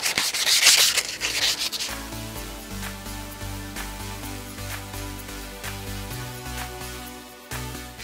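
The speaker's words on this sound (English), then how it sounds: "by using the sandpaper and sanding it down, we're going to be etching the aluminum." Sandpaper rubbing back and forth on an aluminum rod, a close, steady scraping with a louder hissing burst at the start, repeated strokes continuing over background music.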